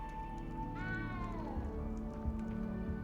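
A small frightened cat in Hogwarts Legacy gives a single rising then falling meow over a steady bed of ambient game sound and low rumble.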